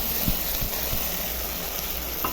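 Spice paste goes in with frying onions and tomatoes for an egg curry, giving a continuous near sizzle with light hiss and a couple of faint stirring clicks.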